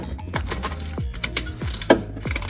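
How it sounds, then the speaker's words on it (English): A 1/2-inch socket works the transfer case switch on a Jeep Rubicon TJ, giving a run of repeated ratcheting clicks and mechanical clatter with low thuds, close up and fairly even in rhythm, with no talking. "I have a 1/2-inch socket that I'm putting on that switch. I'm gonna try to hold this and turn the switch at the same time."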